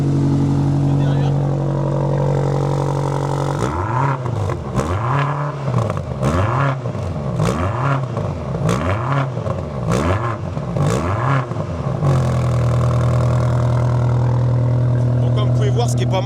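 Hybrid V8 sports car engine idling loudly, then revved in a rhythmic series of about eight rising and falling throttle blips before settling back to a steady, close idle.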